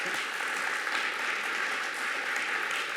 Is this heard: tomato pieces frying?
no